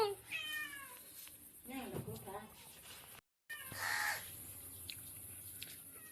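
A cat meows several times on a rooftop, with rising and falling calls that repeat through the passage, over a steady high electrical hiss and some background noise; a voice may be mimicking the meow as well.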